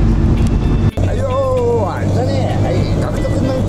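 Inside a car driving on the road, a low steady engine and road rumble runs under a person talking, with a brief bump partway through.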